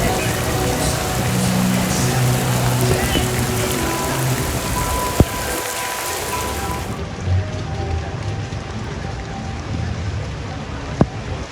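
Rain falls steadily at Universal Studios, a dense, close patter that runs continuously throughout, with a few sharp knocks and faint background activity.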